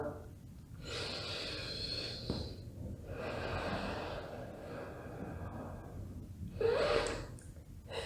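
A yoga instructor breathes in a gentle hip-focused flow, with several long airy exhales separated by short pauses. The breathing sounds close and soft, with no talk over it.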